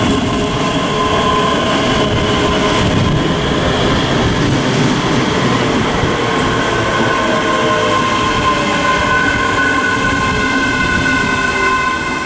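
A ScotRail class 385 electric train pulls into Haymarket station in Edinburgh, a loud, steady rumble and whine of the approaching train holding throughout without talk.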